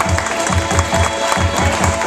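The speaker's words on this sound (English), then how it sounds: "clapping those hands out there. Clap your hands right now." Wedding guests at a reception at a restaurant in Marshfield, Massachusetts clap along in a steady rhythmic beat, dense crowd clapping heard close and continuous with a low thumping backdrop.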